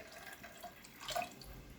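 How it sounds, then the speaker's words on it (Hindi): Water poured into cooking saag (leafy greens) gives a short splashing gush, like a faucet filling a pan, that swells in the middle and then fades, heard close and fairly quiet. "बस सब्जी के लिए जितना चाहिए हम उतना ही पानी डालेंगे"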